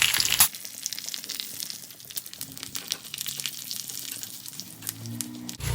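A dried red chili and curry leaves sizzle in hot tempering oil for arachuvitta sambar, a steady close crackle with sharp pops that keeps going throughout, no voices.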